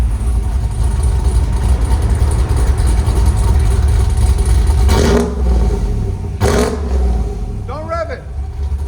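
A cammed GMC Sierra 6.2L V8 with headers, its exhaust valves open, rumbles loud and steady at close range, with a choppy idle and two brief throttle blips; people talk over it near the end.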